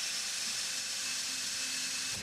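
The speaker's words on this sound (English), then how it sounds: "I got my drill bit here with some grease on it just to keep any shavings from going" A drill bit coated in grease bores into the pinion area of a 14 bolt axle on an OBS Chevy/GMC, giving a steady, loud, high-pitched whine that holds for about two seconds and then cuts off abruptly.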